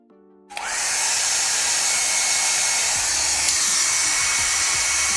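A hair dryer dries paint on a miniature Dark Angels Nephilim jetfighter model. After a short quiet start it switches on and holds a loud, steady, close whooshing blow for several seconds.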